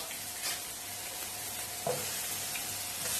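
A knob of butter sizzles in a risotto pan over garlic being cooked for Moroccan chicken risotto; soft, steady frying crackle with a brief stir or scrape partway through, quiet and without voices.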